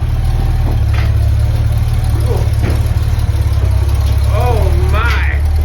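A classic Porsche Turbo restoration car idles with a steady low engine rumble close by, while people talk and exclaim over it.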